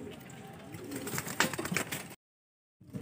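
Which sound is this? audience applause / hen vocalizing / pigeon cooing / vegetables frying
pigeon cooing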